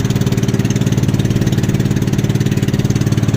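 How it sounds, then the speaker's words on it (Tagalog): Engine of a rice mill that hulls palay into rice runs steadily nearby, a loud low throbbing chug with an even rapid pulse and no speech. "Ito yung gilingan ng ng palay para maging bigas."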